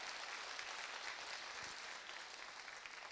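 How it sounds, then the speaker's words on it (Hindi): A crowd applauds a speaker at an indoor network marketing gathering, a continuous dense patter of many hands clapping, steady and moderately distant with no break. "अपने गड़गड़ाती हुई इस करतल ध्वनि से जो मेरा सम्मान बढ़ाया"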